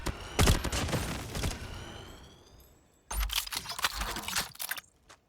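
Weapon elimination effect from a shooter video game, a mythic Phantom skin: two bursts of rapid crackling, snapping hits with a rising whine, dense and loud, a short gap between them.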